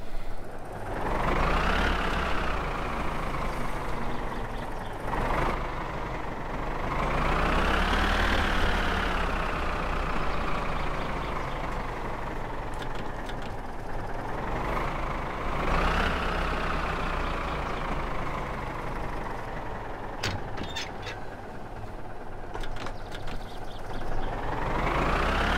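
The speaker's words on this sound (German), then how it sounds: "Vielleicht sollten wir schon mal den Wagen bis da fahren, ne?" Truck engine in the video game My Summer Car droning steadily under load, with several rising and falling rev sweeps as the vehicle drives and shifts, loud and continuous with no talk.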